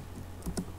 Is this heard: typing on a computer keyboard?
yes